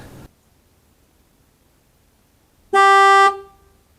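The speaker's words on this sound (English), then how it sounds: "I can tell you that that horn felt a lot louder." A KTM 790 Adventure motorcycle horn sounds once in a short, loud, bright blast of about half a second, with quiet background noise around it.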